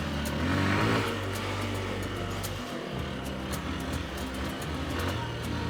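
Honda CBF 150 touring motorcycle stuck off-road on rough ground, engine held at a steady strained rev for several seconds with a brief dip midway, moderately close and alone.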